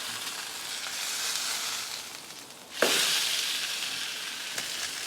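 A ribeye steak sizzles loudly on a hot griddle, then flares into a sharper, louder hiss as it is flipped partway through, with the steady frying continuing after.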